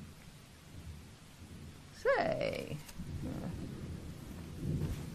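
Thunder rumbling through a rainy night storm in a horror film, a sharp crack swelling into a long roll under a steady wash of rain, with someone speaking over it.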